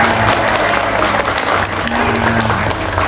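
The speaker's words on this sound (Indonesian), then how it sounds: "Boleh tepuk tangan dulu yang meriah" Dense, continuous applause from a crowd, loud and close, with a faint tonal hum underneath.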